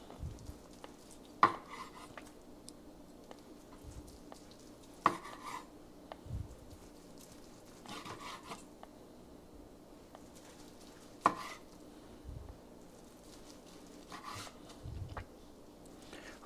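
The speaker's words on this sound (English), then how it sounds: "So this one, again, the grain runs lengthwise. So we're just going to slice this up" A knife slices tender corned beef across the grain on a board, sparse sharp taps and scrapes spaced a few seconds apart against a quiet kitchen background.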